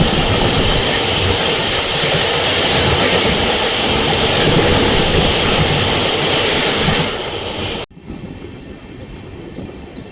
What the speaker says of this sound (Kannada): ನಮ್ಮ ಧಾರವಾಡ ಬೆಂಗಳೂರು ಸಿದ್ಧಗಂಗಾ ಎಕ್ಸ್ಪ್ರೆಸ್ ಈಗ ಎಂಟ್ರಾಗಿದೆ